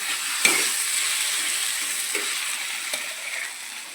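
Ingredients for eggplant bharta go into a pan of fried onions, giving a bright, continuous sizzle broken by a few spoon scrapes and clicks from stirring, with no voices.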